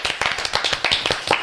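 A round of applause from a small group in a studio setting, a burst of dense hand claps lasting about a second and a half, fairly close and without talk.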